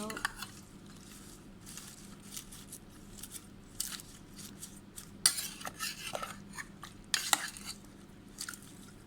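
Fish is tossed by hand with kaffir lime leaves and chili, giving quiet, irregular rustles, clicks and light clatters of the ingredients and bowl, with a few sharper knocks partway through.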